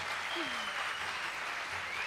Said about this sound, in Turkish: Bir Teşekkür alkış lütfen